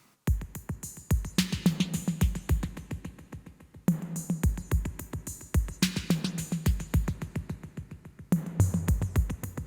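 Intro drum pattern for a remake, with a steady ticking hi-hat over booming kick hits in a looping groove, each hit trailed by echoing repeats, alone and moderately loud.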